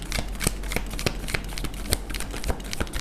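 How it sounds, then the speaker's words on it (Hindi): A deck of tarot cards is shuffled by hand in quick, crisp riffling bursts, close and fairly loud, with no talking. "मैं एक शफल और करूँगी"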